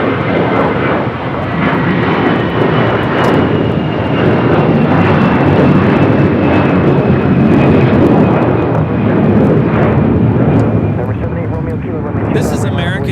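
An airliner departs from runway 25 left at LAX, its engines roaring loud and steady throughout, a continuous broadband rumble with a long, slowly falling whine. A spotter talks briefly underneath.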